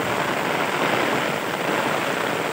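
Rain falls continuously on cultivated fields, including a brinjal plot, as a thick, uniform rushing wash that holds level from start to finish, with no talking.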